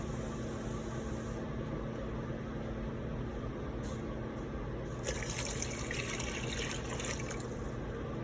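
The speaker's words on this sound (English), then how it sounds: "we're gonna go ahead and add another jar of water" A jar of water is poured into a pot of Italian wedding soup with chicken base, making a steady gushing, splashing flow over a constant kitchen hum, nearby, with brighter splashing toward the end.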